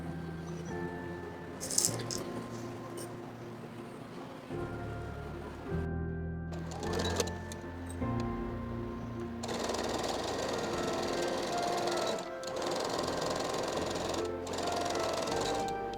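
A sewing machine stitches the side seams of waistband pieces for kids' elasticated Henry trousers, running in steady mechanical bursts with brief pauses between runs, fairly close and moderately loud.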